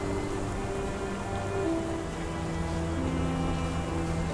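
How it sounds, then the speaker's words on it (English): Rain falls steadily in the video game Sherlock Holmes The Awakened, a dense, even hiss of drops on surfaces with a faint low hum beneath, constant for several seconds and with no voices. "This dreary rain is making a miserable day even worse."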